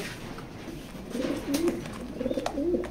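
Racer pigeons coo softly nearby, a few low, rolling calls repeating over a quiet background.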